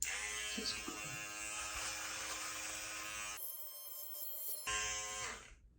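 Electric beard trimmer with a number 8 guard cutting through beard whiskers, a steady close buzz that drops out briefly mid-way and then returns before trailing off.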